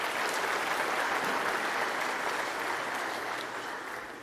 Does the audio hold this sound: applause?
yes